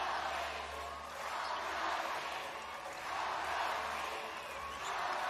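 A basketball arena crowd on its feet during a Ryukyu Golden Kings versus Hiroshima Dragonflies B.League game, a dense roar of cheering that swells and ebbs steadily, heard at a distance and fairly faint.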